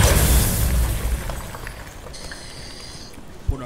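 A crystal bursting in God of War, a deep boom that fades out with a rumbling tail, followed by a brief high ringing shimmer and a small knock near the end.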